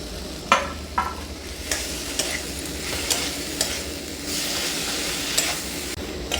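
Fried soybean chunks being stir-fried with spices and tomato in a pan, with a steady low sizzle and repeated sharp scrapes and knocks of a spatula against the pan at an irregular rhythm.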